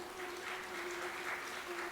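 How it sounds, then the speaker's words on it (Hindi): A man claps his hands in a steady run of quick claps at an indoor spiritual discourse, faint and somewhat distant over a constant hum. "एक प्रभु जी ने बड़ी अच्छी ताली बजाई है, एक पुरुष ताली बजा रहे"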